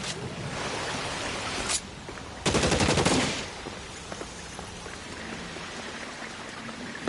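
Rapid gunfire rattles in the L.A. Noire video game, a loud sustained burst of automatic shots near the middle, with an earlier crack and scattered faint pops over a steady background hiss.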